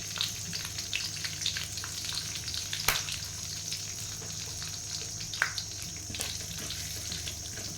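Asafoetida and dried coconut pieces sizzle in hot tempering oil for a ragi puffed-rice snack, a steady soft frying crackle with occasional sharper pops and a faint stir, no voices.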